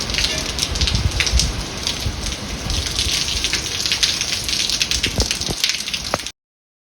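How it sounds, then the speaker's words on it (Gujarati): Heavy rain pours steadily with a broad hiss and scattered sharp drips, wind adding rushing noise throughout, then the sound cuts off abruptly. "વરસાદ પણ બહુ ચાલુ છે તો કેટલો પવન છે"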